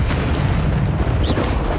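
A dense, roaring whoosh of flame from the Incendio fire spell in Hogwarts Legacy fills the whole moment, loud and continuous with no talking.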